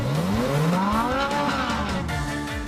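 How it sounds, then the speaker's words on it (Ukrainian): A car engine revs above 3500 rpm through its exhaust pipes, a loud rising and falling roar with climbing harmonic whine and tire-squeal-like tones over close road noise. "коли оберти двигуна перевищують 3500"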